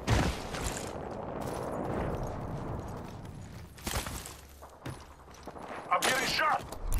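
Gunfire in the video game Apex Legends: scattered shots and short bursts, some sharp and close, others duller, amid game noise and effects, with people talking at times.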